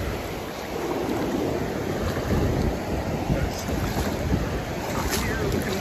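Ocean surf washes and churns steadily nearby, mixed with strong wind buffeting the microphone.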